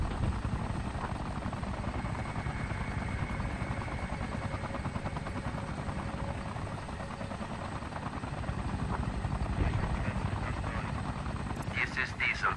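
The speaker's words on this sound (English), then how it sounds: "Howler gunships smash tanks, no problem." Howler gunship helicopters in Tom Clancy's EndWar, a steady close rotor thrum running throughout under frequent radio-style voices.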